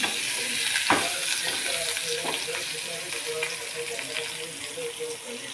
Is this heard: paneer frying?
yes